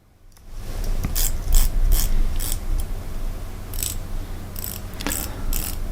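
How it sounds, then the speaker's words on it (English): An Orient Mako 3 dive watch's aluminum-insert bezel is turned by hand, giving a close, steady run of light ratcheting clicks in quick bursts with brief pauses, no voices. "soft bezel action, a little bit springy, but not bad"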